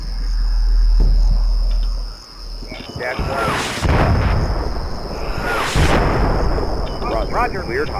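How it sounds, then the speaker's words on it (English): Artillery rounds explode in the video game Combat Mission Shock Force, a deep rumbling blast early on, then further booming impacts with crackling debris over a steady hum, mixed with radio-style talk. "The USS Mason's got the message not to fire, but there's still rounds coming as they're traversing."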